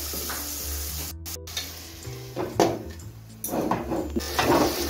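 Tomatoes with Kashmiri chilli powder and spices sizzle in a pan for egg posto, a soft crackling fry with clinks and scraping of stirring, then steadier sizzling as the pan is covered.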